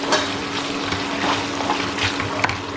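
Prawns with ginger and green chilli paste sizzle steadily in a hot pan, a continuous close frying hiss with faint stirring scrapes, no voices.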